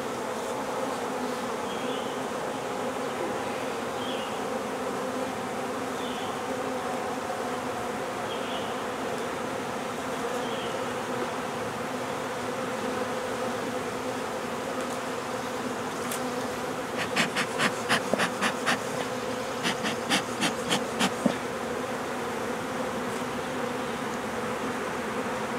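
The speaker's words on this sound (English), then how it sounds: "There's a lot of bees here." Honeybees drone in a dense, continuous buzz close by at a hive, with a few brief sharper buzzes flaring up near the end.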